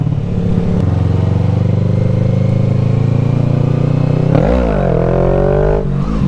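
Motorcycle engine held at a steady high drone, then revving up sharply and surging as the rider lifts into a wheelie, loud and close, without talk.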